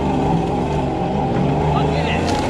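A loud engine roars steadily as a supercharged Toyota Hilux 4x4 pickup with a 1UZ V8 and M90 supercharger drives over rough off-road ground, with rumbling and rattling throughout.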